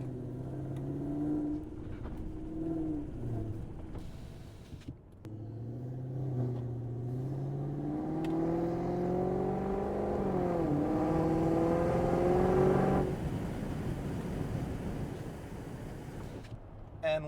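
A 2003 Mercedes E55 AMG supercharged engine fitted with a smaller pulley runs with a deep rumble, rising in pitch as it revs up through a long pull, then dropping back to a steady idle-like drone near the end.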